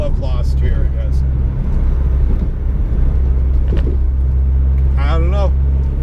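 A Mitsubishi Evo's engine drones steadily from inside the cabin while driving, a constant low rumble running the whole time beneath someone talking.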